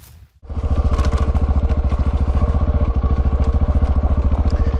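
Single-cylinder KTM 690 Enduro motorcycle setting off, a loud, close engine thumping in a fast steady pulse that starts abruptly after a brief lull and holds strong throughout.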